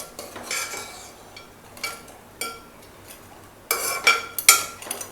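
A spoon stirs a pot of crab curry, giving a few scattered metallic scrapes and clinks with quiet gaps between them, ending in a brighter cluster of clatters. No one speaks.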